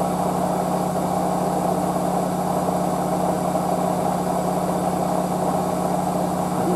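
A washer dryer spinning its drum at high speed, around 1000 to 1400 RPM, giving a steady, continuous whirring hum with a constant low tone that stays even throughout, with no one talking.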